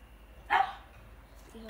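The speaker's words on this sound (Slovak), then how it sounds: "Mama pes." A dog gives a single short bark outdoors in the evening, fairly close, followed by a faint yip, with quiet background otherwise.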